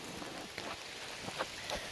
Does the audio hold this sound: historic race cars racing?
no